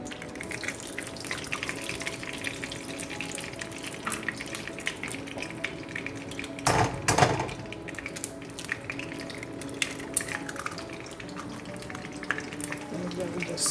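Eggs frying in melted butter in a wok give a soft, steady sizzle with a brief louder crackle burst midway, quiet and close throughout.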